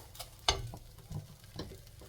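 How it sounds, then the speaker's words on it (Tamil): Curry leaves sauté in a pan for curry leaf powder, a faint soft sizzle broken by a few light scraping stirs and taps, quiet and close with no voices. "கருவேப்பிலை இது மாதிரி ஒரு 2 நிமிஷம் வதக்கினாலே கிறிஸ்பி ஆகிடும்."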